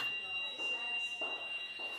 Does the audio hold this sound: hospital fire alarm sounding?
yes